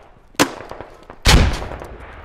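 Gunfire in the Squad video game at a Fallujah map: two sharp shots about a second apart, the second louder and heavier with a short rumbling tail, over quiet background.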